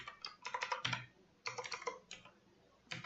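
Typing on a computer keyboard while entering programming commands: quick clusters of crisp key clicks in short bursts separated by brief pauses, close and clear with no talk.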